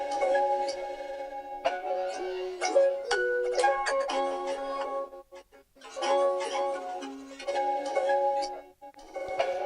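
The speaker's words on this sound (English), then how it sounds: "it just gave it some cool granular kind of glitchy effects with a bit of delay, reverb." A guitar sample run through a granular glitch preset with delay and reverb: chopped, stuttering tonal fragments with bright tinkly highs, dropping briefly to near silence mid-way and again near the end, loud and alone.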